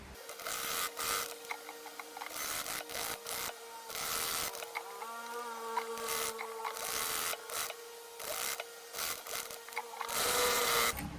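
Sewing machine stitching along the folded edges of a princess-cut saree blouse, a steady mechanical whir broken into short bursts with brief pauses, close and moderately loud, with no speech.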